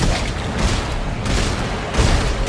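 Dense gunfire in the Dead Space 3 co-op shooter, a loud continuous barrage of overlapping shots and booms with brief surges in intensity, close and relentless with no pause.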